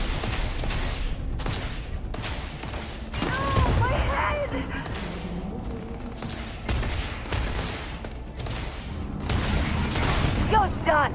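Gunfire in the video game Starfield, a dense run of repeated shots and booms across the whole stretch, with voices talking throughout under the clatter.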